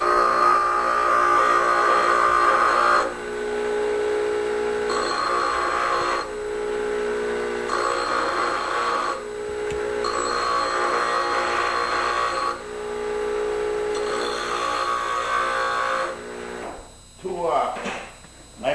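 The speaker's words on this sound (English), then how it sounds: "I'm going to go to my emery now, and I'm going to shorten up the high ones." A bench emery grinder cuts down long wheel spokes in a cannon maker's workshop, giving loud, harsh grinding with a steady whine in several repeated passes of a few seconds each, separated by short pauses.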